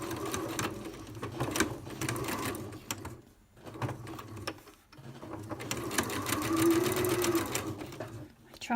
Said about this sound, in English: I'm going to sew it this way around though, so I'm going to use the design as a guide.